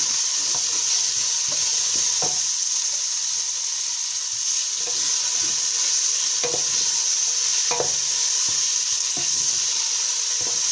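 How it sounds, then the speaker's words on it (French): Vegetable peelings for soup are stirred in a pot, producing a constant loud sizzling hiss with scattered scrapes and knocks of the spoon against the pot. "Et on remue bien."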